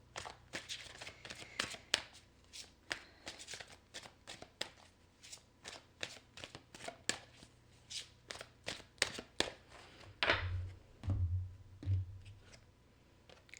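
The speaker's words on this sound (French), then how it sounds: "je vais aller chercher une carte des anges pour vous, célibataires" Angel oracle cards are shuffled by hand in a steady series of crisp riffling flicks and taps, close and moderately loud, with brief low murmurs of a voice near the end.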